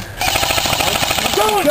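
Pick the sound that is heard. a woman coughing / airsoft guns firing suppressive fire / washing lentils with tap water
airsoft guns firing suppressive fire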